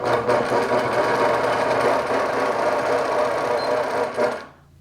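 Sewing machine stitching fabric for a tree wall-hanging, a loud, fast, steady mechanical chatter running continuously before stopping abruptly at the end.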